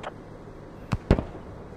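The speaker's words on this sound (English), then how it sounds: "We're hitting their tank." Gunfire in a video game hits an enemy tank: two sharp, loud close bangs about a fifth of a second apart, over a low rumbling background.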